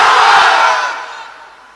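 Large crowd of unmarried men at an Islamic waz mahfil sermon gathering loudly shouting the takbir response in unison, a roaring massed chant that peaks early and then fades away.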